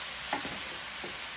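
Spam fried rice with soy sauce being stirred in a Power XL cooker gives a steady sizzle of frying with a few soft scraping strokes of the stirring utensil, close and continuous with no talking.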